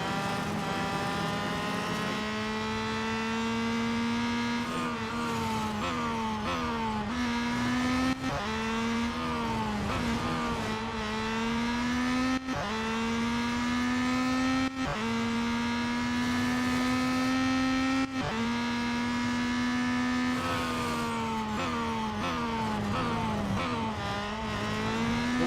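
A Peugeot 9X8 race car engine in the Real Racing 3 game screams at high revs, rising through the gears with repeated shift drops and climbs, steady and loud throughout.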